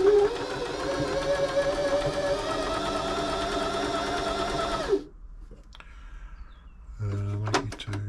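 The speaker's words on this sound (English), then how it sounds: "we give it a bit of stretch stitching to do" Janome 525s sewing machine running a stretch stitch, a continuous close whirring hum for about five seconds that stops abruptly, followed by quiet clicks and knob or part handling.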